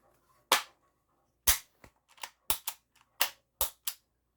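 A Mercury Rise TR 50 torpedo .50 cal revolver firing about seven or eight sharp, snappy shots at irregular intervals, close and crisp with quiet gaps between, some paired with faint mechanical clicks.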